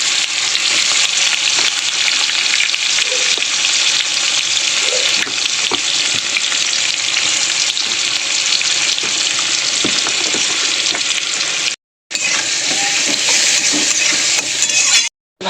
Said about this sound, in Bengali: তেলে দিয়ে দিলাম পেঁয়াজ।